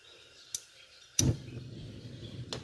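A gas stove burner is lit under a pot for a stockfish dish with olives, onion and tomatoes, giving a faint click and then a sharp ignition snap that settles into a steady low flame rush.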